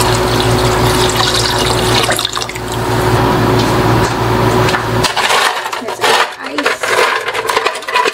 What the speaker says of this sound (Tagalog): So, 2 liters of cold water is going to be added next.